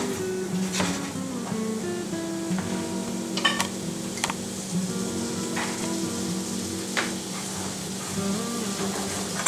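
Carrots sautéing in butter in a pan, a steady low sizzle and frying hiss running throughout, with a few sharp ticks from stirring at a close, moderate level.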